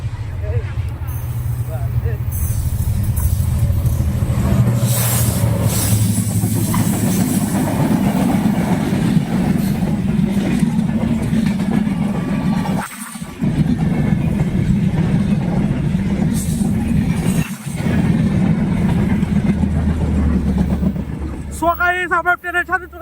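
A train rumbles loudly across the Ghatinia rail bridge, a sustained heavy roar with rattling wagons and brief dips. A horn-like tonal burst sounds near the end, and people talk over it.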